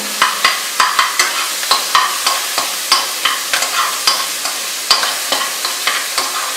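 Goalondo chicken curry, a Bengali recipe, cooks in a pot while a utensil stirs it in a steady rhythm. Close scraping strokes repeat over a continuous sizzle, with no voices.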